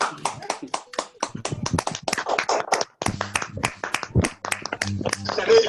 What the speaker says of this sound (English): perhaps we can clap for you